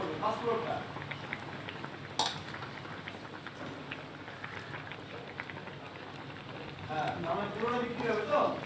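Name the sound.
raw lentil paste fritters dropped into frying pan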